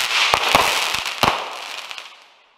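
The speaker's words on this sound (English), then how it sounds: "We look right now, fireworks." Independence Day fireworks crackling and popping nearby, a loud burst of rapid crackles with a few sharp louder pops, then trailing off into quiet.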